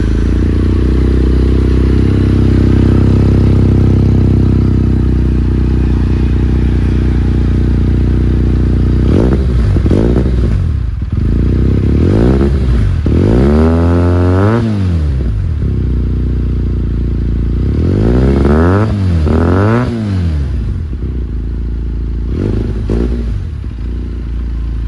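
A Benelli 302S motorcycle idles loudly with a deep, close exhaust rumble, then revs in a series of sharp throttle blips that rise and fall before settling back to idle.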